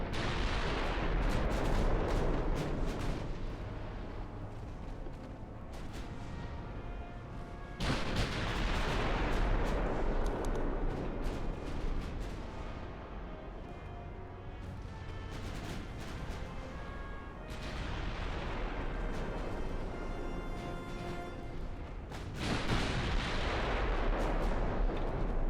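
Naval gunfire from warships in the game Ultimate Admiral: Dreadnoughts, with heavy battleship guns booming loudly again and again every several seconds, each blast rolling into a long rumbling decay, with no talking.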